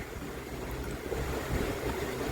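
Mixer grinder blending dragon fruit with milk, sugar and Milkmaid condensed milk for juice, a steady, loud whirring roar that holds unbroken throughout, with no talking.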